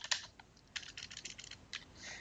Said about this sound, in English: we can start typing in little bits and pieces into here